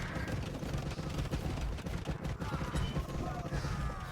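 Bombard cannons firing in Age of Empires 2 during a castle siege, dense overlapping booms and crashes rolling continuously in a loud chaotic barrage.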